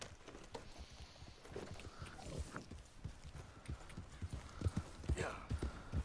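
Horse hooves from the Red Dead Redemption 2 video game clip-clop at an unhurried pace in the town of Valentine, with scattered voices and a brief snort or whinny in between.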